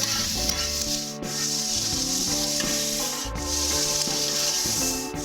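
Chopped onion and fresh garlic frying on a Blackstone griddle, a steady close sizzle running under cooking-game-style background music and occasional scraping.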